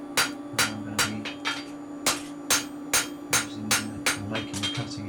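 A hammer strikes the cutting edge of a steel billhook by hand, ringing metallic blows landing close and loud in a steady, slightly uneven rhythm of about a dozen hits, with no talking.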